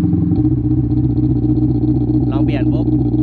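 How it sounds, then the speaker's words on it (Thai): A simulated motorcycle engine plays through a phone-driven exhaust speaker as a continuous loud idling drone with a brief rev flutter, alone and steady throughout. "ต่อไปเป็นเสียงที่ผมเรียกเสียงนี้ว่าเสียงรถมอไซค์"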